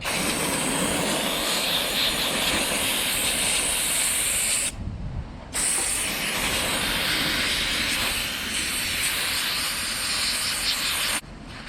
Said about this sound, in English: I'm gonna clean it up with a little bit of brake cleaner.